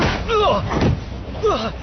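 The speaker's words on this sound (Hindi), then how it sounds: "मैं दरवाजा बंद कर रहा हूँ।" A door slams shut in a Hindi-dubbed Hollywood film scene, a short heavy thud set amid dubbed dialogue that carries on around it.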